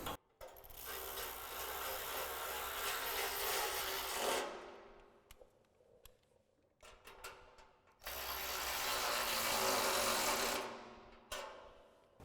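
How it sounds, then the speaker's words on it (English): A ratchet fitted with a 10mm socket tightens the front bumper bolts on a 2015-2017 Ford F-150, giving two long bursts of fast, loud clicking up close, separated by quieter handling noises. "we'll grab our ratchet with our 10mm socket and a 10mm wrench and tighten them down"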